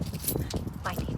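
Car keys jangle and clink briefly in a short burst, close by, with a person talking over them.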